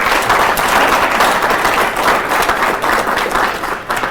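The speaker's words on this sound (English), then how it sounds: "join me in a round of applause for her" Audience applause at a Jamhuri Day celebration in Minnesota, a steady, dense round of clapping from a crowd that holds loud and even for the whole stretch, tapering only slightly at the end.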